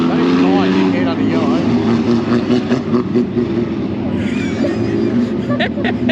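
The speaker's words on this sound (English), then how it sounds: "That's his foot bounce on the accelerator when you're going over the bumps." Race car engine at a Portland raceway, heard from onboard with a loud steady drone whose pitch wavers as the driver's foot bounces on the accelerator over bumps; voices talk over it.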